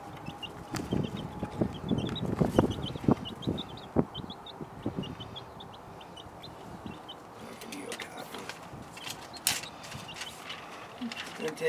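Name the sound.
chickens clucking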